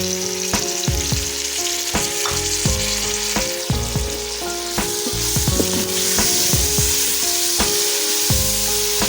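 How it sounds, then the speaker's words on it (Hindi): Tomatoes frying in a pan for aloo tahari potato rice: an even sizzle broken by rhythmic metallic clanks and scrapes of a spoon stirring, close and fairly loud, no voices. "और मैं इसे 2 से 3 मिनट फ्राई कर लूँगी, ताकि ये अच्छी तरह भून जाए और टमाटर सॉफ्ट हो जाए"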